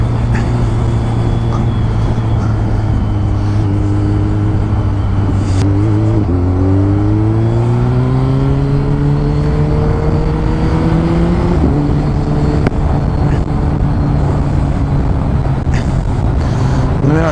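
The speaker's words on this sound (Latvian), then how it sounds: "Kaut kā esmu iemīlējis šo braukšanu ar motociklu." A BMW K1300S motorcycle rides on an autumn road, its engine droning loud and close, with a steady note that drops, then climbs smoothly through a gear as it accelerates, then steadies again, with constant wind rush.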